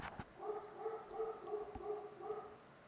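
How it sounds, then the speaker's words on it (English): A dog barks in a string of about six short, yippy barks at a steady pace, quiet and somewhat distant against a faint background hum. "I have no idea what he's barking at."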